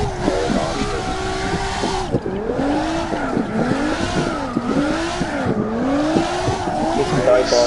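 A car drifts in a racing video game, its engine revving in repeated rising and falling sweeps with continuous tire squeal over several slides, loud and close, with people talking over it.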